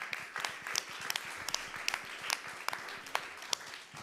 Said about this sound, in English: that really does deserve another round of applause